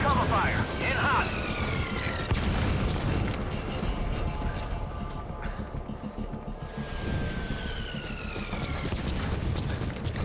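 Explosions from Metal Gear Solid V: The Phantom Pain boom through a busy combat scene with gunfire, whistling whines and siren-like tones. Someone talks over the din.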